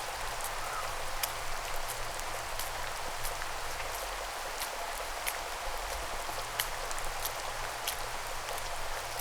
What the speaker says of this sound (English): It's pouring buckets out there.